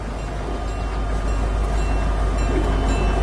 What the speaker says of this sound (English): Did someone drive the train?